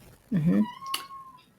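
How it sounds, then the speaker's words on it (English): A house cat cries with a single drawn-out meow up close, loud and brief, followed by a thin steady whistle-like tone and faint background clatter. "Now that's my cat crying."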